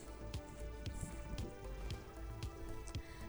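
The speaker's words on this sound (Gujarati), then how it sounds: "વરસાદ દક્ષિણ ગુજરાતમાં ધમધોકાટ વરસાદ પડી રહ્યો છે" Heavy monsoon rain in South Gujarat pours down steadily, a dense hiss with scattered sharp drops and splashes close to the microphone, with no voices.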